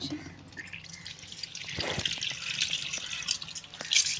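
Fish being washed in water by hand, with close splashing, swishing and scattered drips in irregular bursts, with faint background voices.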